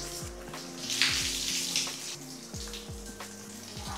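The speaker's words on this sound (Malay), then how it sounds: "Ok, dah settle, kita bilas je lah." Running water pours steadily over a Shoei motorcycle helmet being rinsed indoors in a bathroom, a continuous close splashing and hissing flow with small knocks of the shell against the tub, no talking.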